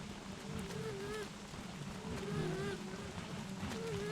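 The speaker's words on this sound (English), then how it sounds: "I guess I didn't know that it was going to rain" Rain falls in the Don't Starve Together video game as a soft, continuous hiss. It stays quiet and steady under faint tonal in-game sounds.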